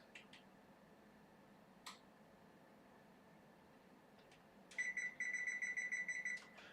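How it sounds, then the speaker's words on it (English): A kitchen timer is set while a Thanksgiving turkey is prepared, giving a few faint clicks and then a quick series of bright electronic beeps near the end, close by in a quiet room. "So we're going to put a timer on."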